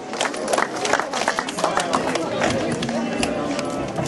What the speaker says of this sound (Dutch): Een applaus alsjeblieft voor dit podium bij de meisjes.